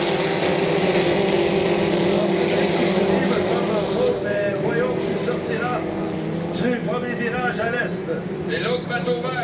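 Powerful 2.5-litre racing motorboat engines roar at full throttle in a race final at Valleyfield, a loud, steady droning with a commentator talking excitedly in French over them.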